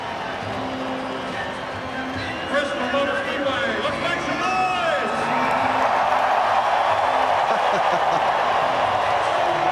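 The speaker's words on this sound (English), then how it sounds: "Listen to this crowd." A NASCAR crowd at the 2005 Sharpie 500 roars and cheers before the start, a broad wash of noise that swells over several seconds with distant car sounds beneath it.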